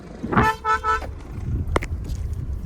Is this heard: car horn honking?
yes